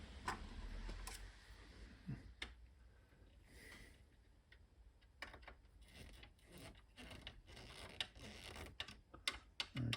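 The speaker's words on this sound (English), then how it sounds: "Don't know what I'm unscrewing this from." Screws being undone from a metal panel of a Grundy NewBrain computer during disassembly, with faint scattered clicks, scrapes and rattles of a screwdriver and parts close by, fairly quiet throughout.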